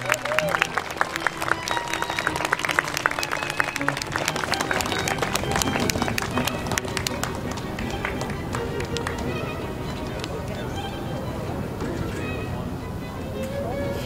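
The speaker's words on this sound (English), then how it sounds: "Let's give all these wonderful volunteers a big round of applause." Big round of applause for costumed volunteers at a Betsy Ross wedding reenactment; dense, sustained outdoor crowd clapping that starts strong and gradually thins, with some talk and background noise mixed in.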